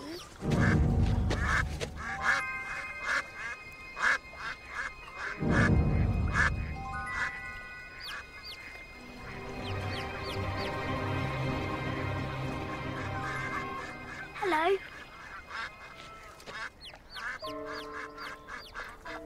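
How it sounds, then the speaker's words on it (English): Baby ducklings quacking in a busy stretch, with two loud low thumps early on and a mix of chirpy calls and background noise through the middle, ending in a short sequence of clear tonal calls. "Do you like baby ducklings?"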